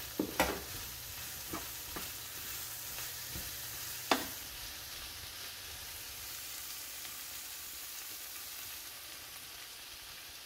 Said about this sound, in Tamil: இறால் போடுவோம்